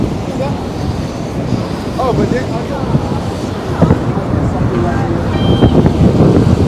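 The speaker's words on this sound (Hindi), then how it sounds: "इतना ज़्यादा पानी एक वक्त में गिरता हुआ शायद ही दुनिया में किसी जगह पर देखा जाता होगा।" Niagara Falls roars as a dense, steady wash of falling water, loud and unbroken, with a voice talking over it for much of the time.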